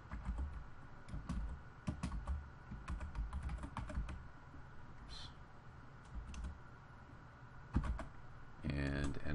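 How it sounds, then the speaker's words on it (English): Fingers typing a search query on a computer keyboard, a steady run of light, close key clicks with short pauses, ending in a quick flurry of keystrokes. "let's type in on Google search jack-o'-lanterns"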